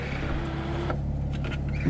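Interior of an Audi S4 cruising on a highway with windows and sunroof closed and air conditioning running, a steady low engine and exhaust hum under broadband road and wind roar, constant and moderately loud.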